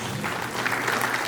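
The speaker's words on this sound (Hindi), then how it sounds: "प्लीज अपने लिए ताली बजा दो।" A hall audience at a Sawan festival event bursts into brief, dense applause, steady clapping filling the short moment.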